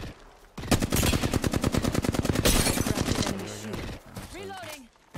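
Gunfire rattles in a shooter video game, a long rapid burst of automatic shots at close range, followed by scattered single shots and brief bits of talk as it fades.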